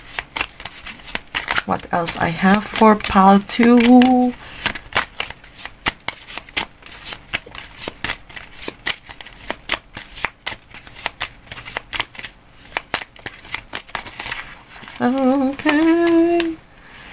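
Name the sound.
shuffling Moonology oracle cards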